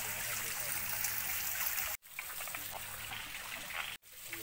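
Water flows steadily into a waterfall pool edged with green grass, a constant close rushing hiss with faint splashing, briefly cut twice.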